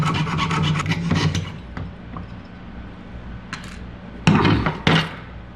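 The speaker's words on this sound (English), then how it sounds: "I've left myself a little bit of metal to file away" Metal being hand-filed on a jewelry bezel next to its solder seam, steady rasping strokes up close, a run of quick passes followed by a pause and then a couple of louder, harder strokes.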